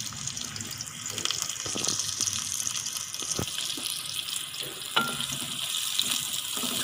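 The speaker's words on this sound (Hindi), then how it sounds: "इसको थोड़ी देर फ्राई करेंगे" Chopped onions frying in ghee in a kadai while cooking sev tamatar curry, giving a steady soft sizzle with a few faint utensil taps, moderately quiet and without any talk.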